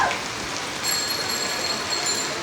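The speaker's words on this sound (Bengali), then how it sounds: "তুমুল বৃষ্টি পড়তেছে এখন।" Heavy rain pours at Patenga in Chittagong, a dense, continuous broadband wash of falling water that stays steady and loud throughout, with no voices.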